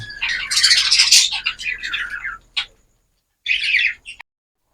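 African lovebirds chirp in fast, high, twittering bursts. The calls are close and clear, a dense run followed by a short sharp note and then a final brief flurry, with silence in between.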